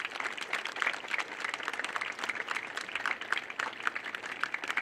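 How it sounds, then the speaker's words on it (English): Audience applause at a 2021 school band farewell, honoring a departing teacher: steady, dense clapping from a crowd, moderately loud and continuous throughout, with no voices over it. "of applause for Miss Moon"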